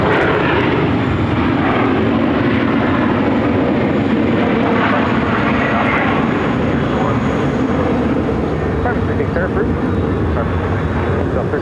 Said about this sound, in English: The Southwest Flight 1302 coming in from Puerto Vallarta on a 737-700.